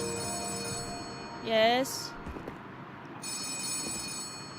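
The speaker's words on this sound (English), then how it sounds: "The office phone is ringing." An office telephone rings in a video game, first one short electronic trill and then a second ring, with a brief spoken reply between them over a quiet room tone.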